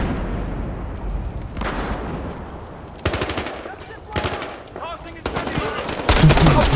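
Incendiary grenade thrown in the video game Battlefield Hardline, amid loud bursts of machine-gun and gunfire crackle in a busy firefight, with a voice talking over parts of it.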